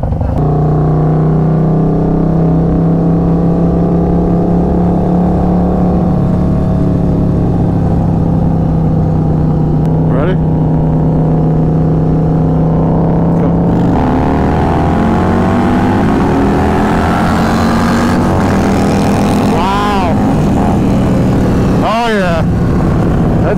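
Two Stage 2 Harley-Davidsons, a Low Rider ST and a Road Glide, roar loudly as they accelerate, a steady low engine drone with rising whines near the end, while voices talk over it.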